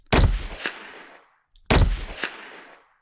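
Two heavy designed video game gunshots layered with a high metallic sound, each a sharp crack followed by a ringing metallic tail that decays over about a second, with a pause between them.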